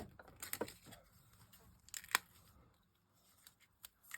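Scissors snip through a taped-down offcut in a few sharp, crisp cuts, two close together early and another pair a moment later, then softer rustling and handling in a quiet room.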